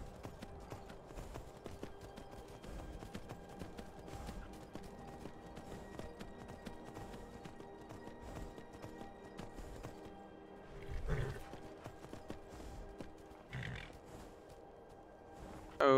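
Horse hooves clip-clopping steadily under a rider in Skyrim VR, a continuous mid-level trot blended with game ambience and music, with a brief louder swell near the end.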